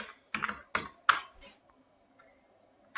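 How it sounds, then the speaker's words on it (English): A few sharp keystrokes tap on a computer keyboard, about five close clicks in quick succession, then quiet with a last faint tap at the end. "here type the designations"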